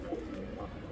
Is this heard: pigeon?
yes